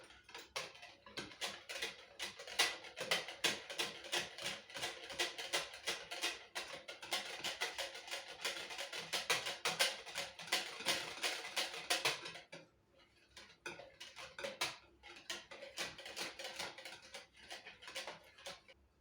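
Eggs being whisked in a bowl for toad in the hole batter, a fast, steady run of light clicking taps that goes on for a long stretch, pauses briefly, then resumes, close and fairly faint.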